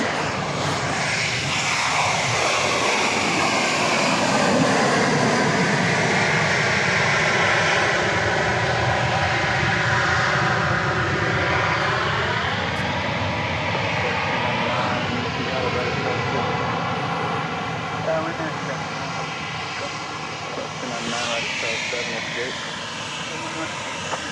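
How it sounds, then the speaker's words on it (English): A Boeing 737 Max 8 arriving at Dallas Love Field produces a steady, loud jet engine roar with a pitch sweep around mid-clip, filling the whole stretch and rising and falling slightly in tone as it passes. "From Nashville comes flight 1099, Max 8."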